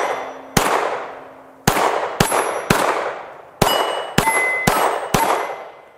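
Shots from a Springfield XD9 Mod.2 Tactical 9mm pistol ring out outdoors, about nine sharp, loud reports at irregular intervals, each trailing off into a long echoing decay, no talk.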